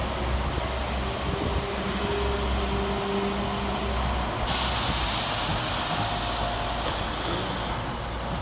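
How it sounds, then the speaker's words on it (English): A Transport for Wales class 197 train departing Chester railway station, heard as a steady rumbling roar with hissing and faint tonal whines, continuous and fairly distant throughout. "departing with the 1043 Transport for Wales service to Liverpool Lime Street"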